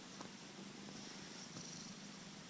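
A cat purrs softly and steadily up close, a low continuous rumble in a quiet room with no talking.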